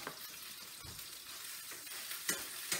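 Sausage sizzles quietly in a frying pan, a steady soft crackle broken by a few short scraping taps as the link is turned over; no talking.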